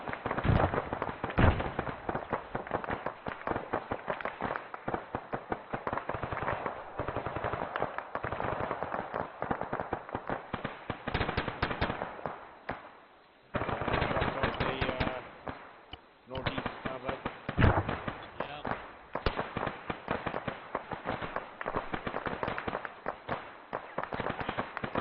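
Infantry platoon training in the field with dense crackling gunfire from rifles and a MAAWS gunner, shots loud and close in rapid bursts with brief lulls, and voices calling out over the firing.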